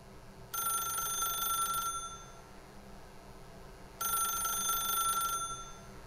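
A telephone rings in the video game The Stanley Parable with two long electronic bursts separated by a pause, clear and fairly loud over a quiet hum.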